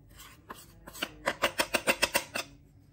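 Custard powder is whisked into cold milk in a bowl, a quick run of about ten rhythmic scraping strokes after a few slower ones, close and fairly quiet.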